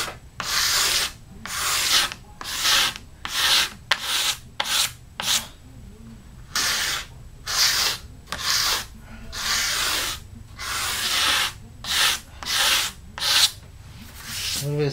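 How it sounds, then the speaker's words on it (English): Rhythmic sanding and razor-blade scraping strokes on a sloped-shoulder guitar build, a rasping hiss repeating in bursts about once a second, close by with brief pauses and no talk. "A little bit of sanding and scraping."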